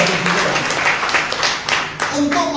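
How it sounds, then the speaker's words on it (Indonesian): A church congregation applauds together in a hall, steady dense clapping with rhythmic bursts that carries on for a few seconds at close, moderately loud level. "Tepuk tangan bagi Allah kita"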